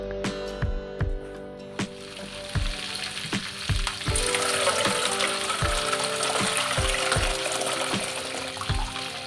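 Duck pieces fry in hot oil, giving a steady close sizzle that grows louder midway. Scattered clinks and knocks of utensils come through at intervals, with no talking.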